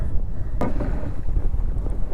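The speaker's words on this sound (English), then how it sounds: "But it's windy today" Steady low rumbling wind buffeting the microphone outdoors by a pond, continuous throughout, with a brief sharp burst partway through.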